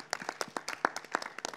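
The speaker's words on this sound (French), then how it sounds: "j'applaudirai bien avec vous maintenant" Audience applause at a film screening and debate on sport, heard as a fairly faint, irregular patter of hand claps from a small group, continuous and spread out with no voices over it.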